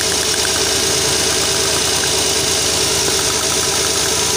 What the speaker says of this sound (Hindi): अभी आप लोगों को यहाँ पे आवाज़ आएगी कॉइल की